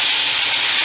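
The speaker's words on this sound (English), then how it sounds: "And now we're going to add our pasta." Pasta hits a hot pan with olive oil and tomatoes for chicken pesto pasta, giving a loud, steady, steamy hiss throughout this brief moment.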